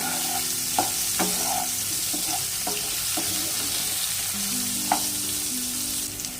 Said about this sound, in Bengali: লাউগুলো একটু ভেজে নিয়েছি